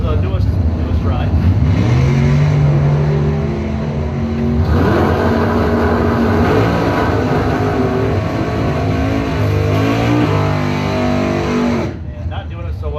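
Drag race cars, a Dart and an El Camino, launch side by side in a Mopar bracket race, their engines roaring loudly and steadily as the pitch climbs through the run, with an announcer talking over the noise.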